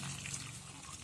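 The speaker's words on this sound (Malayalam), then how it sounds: "അതിൻ്റെ കൂടെ നമുക്ക് സ്വല്പം വെള്ളം ഒഴിക്കാം" A short, faint splash of water being poured into a mixer jar, soft and close, with a low hum underneath.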